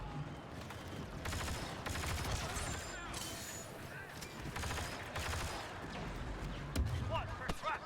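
Dense barrage of blaster fire in a Star Wars video game, rapid overlapping bursts with loud volleys alongside walker combat, under voices talking throughout.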